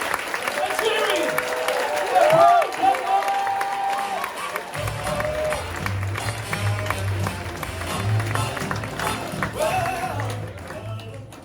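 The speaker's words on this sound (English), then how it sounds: "start clapping. Everybody join in. And moving! And cheering!" Audience clapping and cheering at a stand-up comedy show at The Stand in Newcastle, steady mixed applause with shouts and whoops under a voice over the room, with a low hum joining midway.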